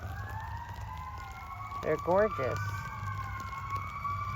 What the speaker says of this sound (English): sorry about the ambulance